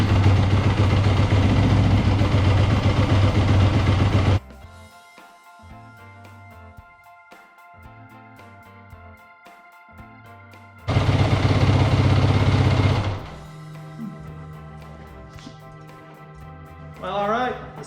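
A Yamaha WR250F motorcycle engine runs loud and steady at idle to warm up, cuts out, then returns with a second loud burst of running before dropping away, with quieter mechanical noise in between.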